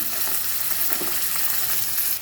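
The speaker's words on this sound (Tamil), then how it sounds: "அது கொஞ்சம் ஃப்ரை ஆகட்டும்" Vegetables for noodles fry in a pan with a dense, continuous sizzle and faint stirring underneath, close and steady throughout.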